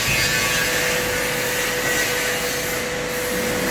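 Five-axis bending machine running on a factory floor, a steady broadband mechanical whir and hiss with a faint tonal hum, continuous and fairly loud with no voices.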